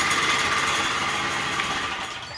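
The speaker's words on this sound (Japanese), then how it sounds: "エンジンかかりましたんで、しばらく低速で鳴らしをしようと思います。" Small engine newly swapped into a Spider mower running at low idle for break-in, a steady, even drone with a high-pitched hum, close and continuous.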